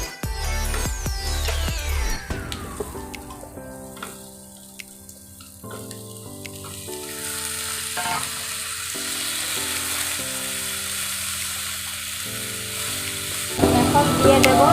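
Washed, cut ridge gourd for a fish dish lands in a hot pan, the frying hiss building and flaring near the end beneath prominent tonal melodic music that dominates much of the clip.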